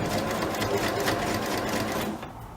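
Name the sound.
sewing machine stitching an upcycled old t-shirt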